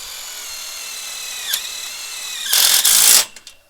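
Cordless drill driving a screw through a metal hurricane strap into the wooden base board of a high tunnel greenhouse, a steady whine building to a loud, harsh burst as the screw seats, then cutting off.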